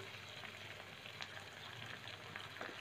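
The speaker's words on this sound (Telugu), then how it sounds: "సో చూస్తున్నారు కదా ఏ విధంగా ఫ్రై అవుతున్నాయో" Cabbage manchurian fries in a pan with red chilli sauce, green chilli sauce, dark soy sauce and vinegar, producing a faint, steady crackling sizzle with scattered small pops and no voices.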